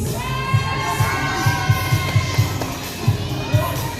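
A lively crowd shouts and cheers at a wrestling match between Team Artemis and Team Apollo, with steady massed voices and repeated louder bursts of yelling close by throughout.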